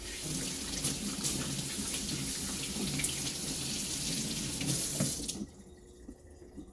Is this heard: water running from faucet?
yes